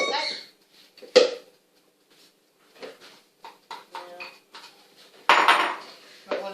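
Steamed bun dough worked in a bowl with a scraper and hands: irregular knocks, scrapes and clatters of utensil against bowl, close and fairly loud, separated by quiet gaps.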